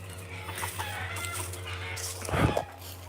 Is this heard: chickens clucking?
yes